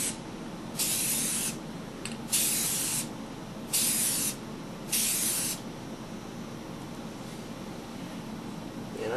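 Aerosol spray from a nozzle during headlight restoration on a Volvo 240, four separate hissing bursts of about a second each with short pauses between, close and steady.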